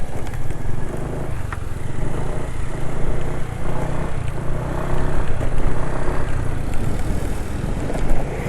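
A two-stroke motorcycle engine running on Motul 510 2T oil drones continuously at close range, a dense, slightly rough buzz holding steady revs with no talk over it.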